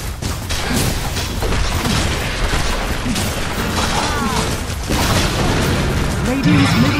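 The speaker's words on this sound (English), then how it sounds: "Radiant's middle tower has fallen." In Dota 2, a middle tower is attacked and brought down, with dense, loud booms, bursts and clattering combat effects piling up continuously while a voice speaks over the din.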